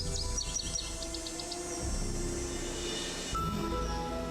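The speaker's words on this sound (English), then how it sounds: "I hear birds." Woodland bird calls in a Nancy Drew game: a short series of high, thin chirps early on, fading into a steady, hissy forest ambience with faint insect-like texture and no talking.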